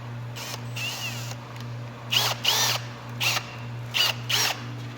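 A drill runs a small tapered countersink bit into metal on a fuel tank skid plate for an FJ40, giving several short grinding bursts in an uneven rhythm over a steady low hum, close and without talk.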